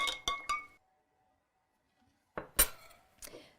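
Spoon stirring activated charcoal into a glass of water: a few quick, bright clinks against the glass, a short silence, then a louder second round of clinks and rattles, close and crisp.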